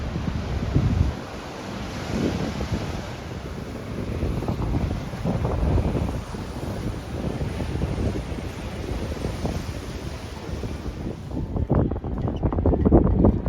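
Wind blows steadily in gusting rushes against the microphone, mixed with the wash of water nearby at a boat in San Antonio, continuing throughout with no voices.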